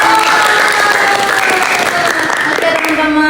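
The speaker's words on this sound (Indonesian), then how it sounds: "tepuk tangan dulu dong untuk kita" A classroom full of students claps together, a loud, busy patter of many hands that runs without a break, with voices calling out over it.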